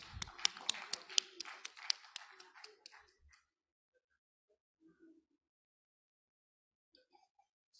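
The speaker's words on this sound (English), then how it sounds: "Can we have a great round of applause" Audience applause at an education summit on commerce and accountancy: a brief, fairly faint burst of clapping that fades after about three seconds, leaving near silence with a few scattered sounds.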